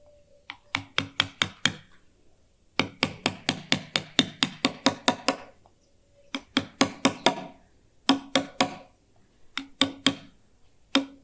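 Letters are being carved into granite with a hammer on a chisel. Crisp, sharp strikes come in quick bursts of four to ten, separated by short pauses, close and clear with no talk.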